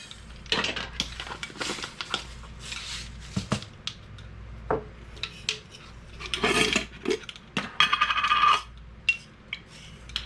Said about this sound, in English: Half a teaspoon of mustard seed.